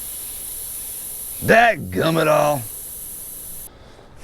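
Air hisses steadily out of a punctured KLR 650 motorcycle tire on a trail. The continuous high hiss cuts off near the end, and a man's exasperated exclamation rises over it partway through.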